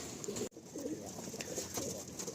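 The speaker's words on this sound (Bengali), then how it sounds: "এরকম পায়রা প্রায় 15 পিস আছে" Kaldom pigeons kept in a home loft cooing softly, several low throaty coos repeating over a quiet background, with a brief knock near the start.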